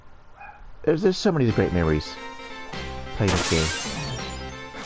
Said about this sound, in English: excuse me for the dog there